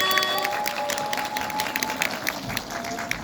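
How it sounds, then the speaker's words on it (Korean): An audience at an awards show claps continuously as a performing team leaves the stage, a dense patter of many hands applauding at moderate volume with a few sharper claps standing out. "밀크 카라멜 팀이 퇴장할 때 다시 한번 큰 박수 부탁드립니다."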